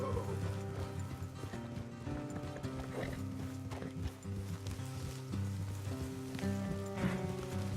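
Steady clip-clop of horse hooves at a walking pace in Red Dead Redemption 2, faint and continuous, with a soft rain-like hiss and a low tonal hum underneath.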